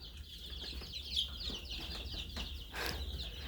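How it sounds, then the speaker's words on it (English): Chickens cluck softly in the background with some rustling and faint wing flaps, fairly quiet and continuous. "All chicks are noisy"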